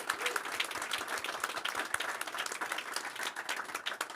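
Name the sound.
applause for the event organizers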